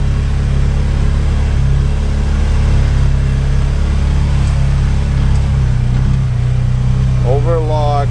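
A Trail Rider 570 UTV crawls up a dirt trail grade on Sunf tires, its engine droning loud and steady throughout with a low rumble, and a brief rising whine near the end.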